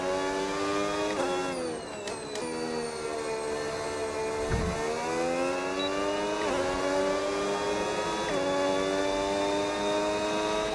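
A race car engine in a racing video game drones continuously, with pitch climbing through gears and dropping at each shift, several shifts heard over about ten seconds with no talking.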